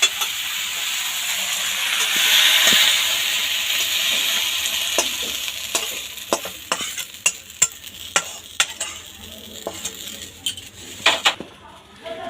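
Food frying in a pan while Pui Mituli is cooked, a steady loud sizzle at first, then sharp clinks and scrapes of a utensil against the pan punctuating a fading hiss.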